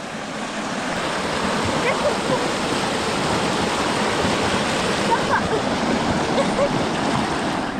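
Rushing stream and waterfall during a wet weekend outing in Spain, a loud, constant broadband wash of churning water filling the whole clip without pause.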